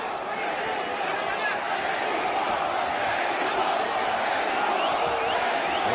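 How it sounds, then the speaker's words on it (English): A pro-Mexican crowd at a heavyweight boxing match chants Mexico in a distant, rhythmic roar, heard under an announcer's continuous commentary throughout. "There you hear the Mexico chants from his very pro-Mexican crowd"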